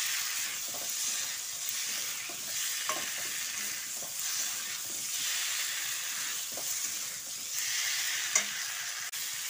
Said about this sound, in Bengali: ফুলকপিটা আলুর সঙ্গে মিশিয়ে দিচ্ছি